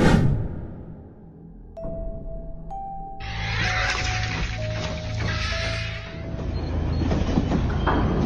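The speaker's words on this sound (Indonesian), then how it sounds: "Di suatu gurun yang panas, melintas sebuah kereta barang" A freight train passes through a hot desert, with rumbling wagons, metallic clanking and a sustained high wheel squeal that comes and goes over a heavy low roar.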